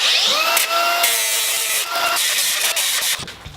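A power tool grinds the galvanized coating off a steel stake, a loud close whine and scraping rasp that runs for a few seconds before tapering off.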